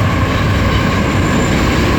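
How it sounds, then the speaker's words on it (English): Train rumbling past close by at night, a steady loud roar of wheels and rail noise that fills the whole stretch with no talk. "I'm pretty sure y'all can, but it's a train coming."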